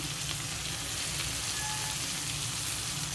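Broad beans (chikkudu kaya) frying in a pan give a steady, even sizzle that hisses continuously and fairly quietly throughout, with no voices.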